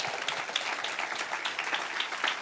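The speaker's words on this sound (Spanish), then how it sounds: "Dale un aplauso al Señor." Congregation applauding at a church congress conference, a steady wash of many hands clapping together at moderate volume throughout, with no voices on top.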